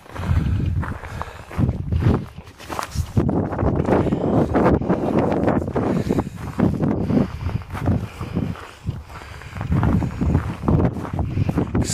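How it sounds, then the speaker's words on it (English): Strong wind buffets the microphone outdoors in southern Saskatchewan, a loud, continuous rumbling roar with gusty swells and no pauses. "Sorry about the wind, southern Saskatchewan"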